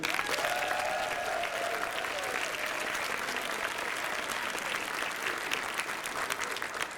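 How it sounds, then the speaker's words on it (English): A crowd applauds steadily at the Megaplex 2021 convention closing ceremony, with dense continuous clapping and a brief whistle near the start. "Big round of applause for one of our favorite long-term guests, Alkali Bismuth."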